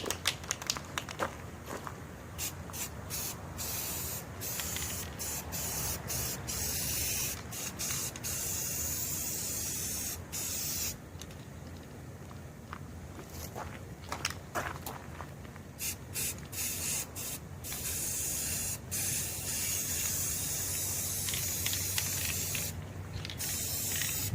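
Spray gun applying lacquer paint to the wheels of a 1975 Vanguard Citicar: long, loud hissing spray bursts near the listener, repeatedly stopping and starting with brief gaps between passes.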